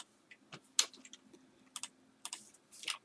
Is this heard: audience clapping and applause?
no